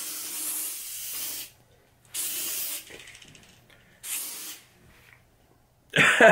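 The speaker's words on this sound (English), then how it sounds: "This is a disinfectant spray. You just press this button down and you spray it just like this." A disinfectant aerosol can sprays in three long hissing bursts separated by short pauses, close and fairly loud, with a brief fourth burst at the end.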